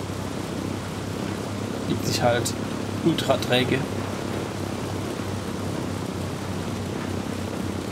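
Helicopter flight in the video game Ghost Recon Breakpoint, a steady broadband rotor and engine drone running throughout under a man's speech.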